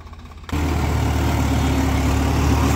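A Swaraj 742 XT tractor engine working an 8 ft rotavator surges in abruptly after a quieter moment, then holds a loud, steady, low rumbling drone up close.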